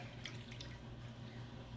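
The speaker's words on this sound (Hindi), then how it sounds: "1 कप पानी डाला" Water is poured into a pot while making apple jam at home, a steady continuous splashing and trickling stream heard up close, with no voices.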